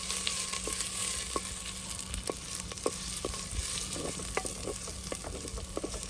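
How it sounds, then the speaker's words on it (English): Onions sauté in a clay pot outdoors, giving a continuous even sizzle and frying hiss throughout, with faint scattered ticks and pops and no talking. "And saute these until they go nice and light brown"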